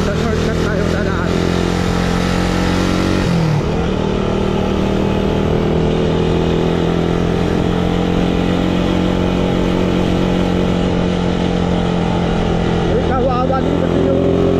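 A Suzuki Raider 150 motorcycle ridden on a rural Philippine road, its engine droning steadily and close throughout with a couple of brief throttle changes, loud and continuous with no talk over it.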